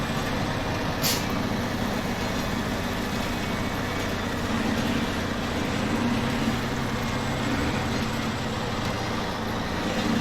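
A truck in SnowRunner drives steadily through the Vologda Region, its engine giving a constant low rumble with road noise and a brief hiss near the start, running alone with no talk.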